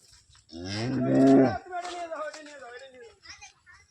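A dairy cow, one of a pair with a calf being loaded for sale, gives a single loud, drawn-out moo close by, followed by quieter background voices and faint rustling.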